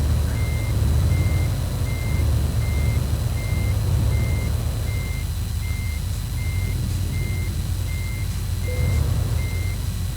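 A truck in Euro Truck Simulator 2 backs up with a steady, evenly spaced reversing beep repeating throughout, over a low rumbling engine drone and no talk.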